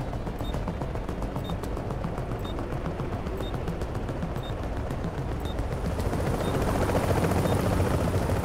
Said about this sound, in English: You've got a bird inbound on your position.